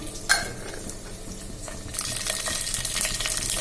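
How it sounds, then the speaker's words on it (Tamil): Mustard seeds dropped into hot oil in a pot for rasam tempering: a faint tap and clink, then a bright, hissing sizzle that swells and carries on steadily, close up and with nobody speaking. "பானையில் வந்து எண்ணெய் ஊற்றிக்கோங்க. பிகாஸ் ஆஸ் யூஷுவலாக எப்படி ரசம் தாளிப்போமோ அதே மாதிரி தான். கடுகு போட்டுக்கிறோம்."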